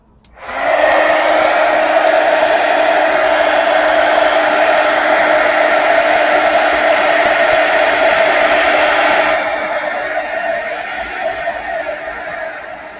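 A hair dryer blows steadily on wet paint on a craft project, a loud continuous broadband whoosh that starts abruptly and runs alone, easing slightly softer toward the end.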